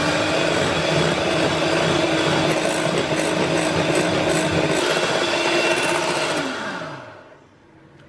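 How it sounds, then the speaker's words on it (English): Coconut sugar is whisked by hand into beaten egg whites for a sponge cake, giving a steady, continuous scraping and rattling of the whisk against the bowl that runs for several seconds, then slows and stops near the end. "now we'll whisk in the sugar"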